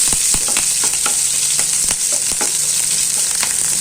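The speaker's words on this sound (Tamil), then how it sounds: "இந்த ஸ்டேஜில் நம்ம வெங்காயம் போட்டுக்கலாம் வெங்காயமும் கொஞ்சம் கருவேப்பிலை கறி விற்கும் போட்டு கொஞ்சம் கரட்டி விட்டுடலாம்" Onion and curry leaves fry in hot oil for a beetroot stir-fry, giving a steady, close sizzle with sharp crackles and pops scattered throughout, and no voices over it.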